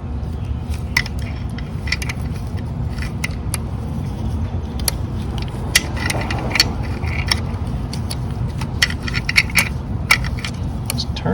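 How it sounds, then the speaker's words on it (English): A box wrench turns a bolt during an engine rebuild, giving scattered sharp metallic clicks and light scrapes up close over a low, steady background hum. "See if I can get my box and wrench down there."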